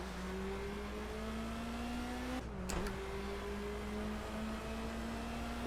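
BMW 2002 SW Edition in the racing game Project CARS, engine note rising steadily as it accelerates, a brief dip at a gear change, then climbing again, fairly quiet and with no talk.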